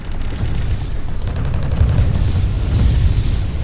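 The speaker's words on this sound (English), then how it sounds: "And now the explosion's gonna damage me." Spaceship explosion in the space combat game Fractured Space, a loud, sustained rumbling boom with crackling bursts that keeps roiling for several seconds.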